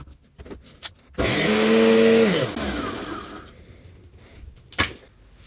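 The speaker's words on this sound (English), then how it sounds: "And now we just need to blend this up." A blender whirs loudly through a pumpkin and carbonero pepper fermented hot sauce for about two seconds, its motor pitch shifting as it spins up and winds down, with brief clatters before and after.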